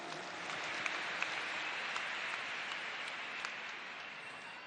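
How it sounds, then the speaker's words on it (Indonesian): Large crowd applauding at a presidential campaign rally in Jakarta International Stadium, a steady, fairly faint wash of clapping heard from a distance and sustained throughout. "Tepuk tangan untuk semua yang memilih hadir di sini."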